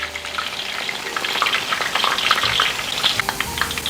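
Potatoes fry in hot oil with a dense, continuous crackling sizzle that stays close and fairly loud throughout, with no voices.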